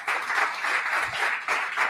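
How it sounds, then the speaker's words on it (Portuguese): A church congregation claps together in a hall, rhythmic bursts of applause rising and dipping in waves, moderately loud and close, with no speech over it. "aplauda o Senhor"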